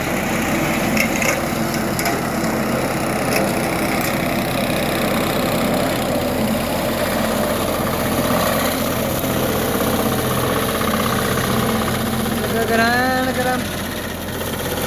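A small tractor engine drones steadily while sowing a dusty field, with a constant low rumble and rattle, close and loud, without a break.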